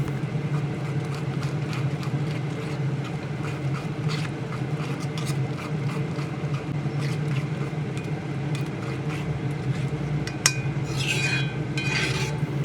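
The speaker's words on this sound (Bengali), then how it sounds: "কুমড়ো কুচি এই মশলার সঙ্গে খুব ভালোভাবে ঘুটে ঘুটে মিশিয়ে দেব।" Chopped pumpkin mixed with spices in a pan, the spoon clattering and scraping steadily against the metal with a constant rough texture throughout.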